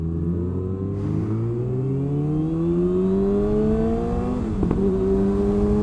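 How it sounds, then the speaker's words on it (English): Kawasaki ZX6R sport motorcycle engine on a race track, its pitch rising steadily through the gears in a continuous loud drone, with a brief sharp shift blip near the end. "So, let's get the ZX6 out on track"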